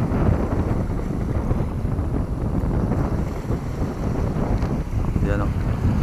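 Steady low rumble of a boat engine at sea off Boracay with wind buffeting across the microphone and water noise, continuous throughout, with a faint voice near the end.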